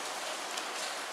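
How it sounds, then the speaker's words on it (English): Steady rain falls in a brief, even wash of hissing drops, moderately quiet with no talking. "It's raining again."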